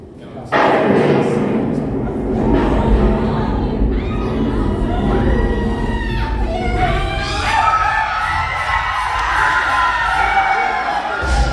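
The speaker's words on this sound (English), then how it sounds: "I will have to give it to this crowd. That is the loudest I've ever heard this room." Loud crowd cheering and screaming fills an enclosed room at a Disneyland attraction, a dense sustained roar with children's shouts and scattered thuds, starting abruptly and staying loud throughout.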